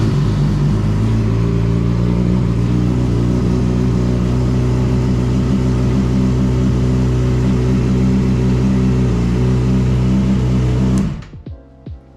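A Yamaha R6 sport motorcycle engine idling steadily and loudly up close, a continuous mechanical drone that cuts off abruptly near the end, leaving brief ticking as it goes quiet.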